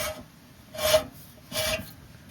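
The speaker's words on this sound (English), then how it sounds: "I'm gonna rule that as just dust shields in the rear making all that noise" Two soft metallic scraping rasps, each about half a second, recur rhythmically as a rear brake dust shield rubs on the rotor of a BMW E36, fairly quiet.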